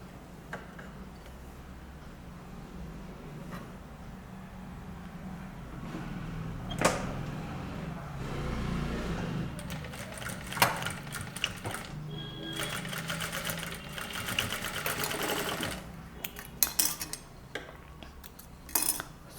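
A sewing machine stitches a dress hem in steady running bursts with a continuous mechanical whir, close and moderately loud, with pauses, fabric handling and small clicks between runs.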